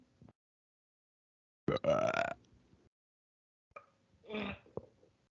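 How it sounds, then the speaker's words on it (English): A loud, drawn-out burp in the middle, followed a couple of seconds later by a second, rougher belch, with brief quiet gaps around them. "I got to burp."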